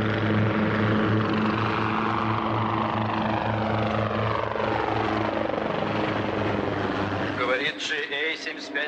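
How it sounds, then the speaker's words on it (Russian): A helicopter flies overhead with a loud, steady rotor chop and engine roar that dominates most of the stretch, then drops off near the end as other sounds cut in. "Снимайте вертолет, летящий над вами."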